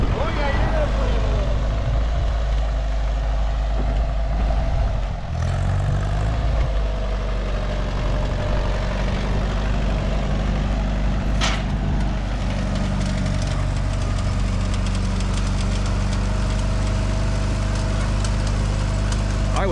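An Allis-Chalmers tractor engine drones steadily in the field while planting corn, a low continuous hum heard from a moderate distance, with brief clunks and a faint voice now and then.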